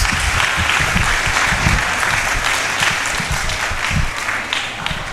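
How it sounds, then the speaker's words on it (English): Loud, sustained audience applause for the team captains at a multiplier game tournament, with scattered low thumps mixed into the clapping and fading slightly near the end. "Let's give them a big hand of applause."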